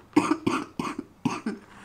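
A woman's coughing fit: four sharp, close coughs in quick succession, each a short harsh burst with a brief follow-up hack, alone without talk.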